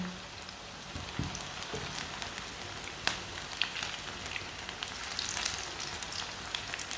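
Vegetable pakoras fry in a small amount of oil with a soft, continuous crackling sizzle and scattered tiny pops throughout.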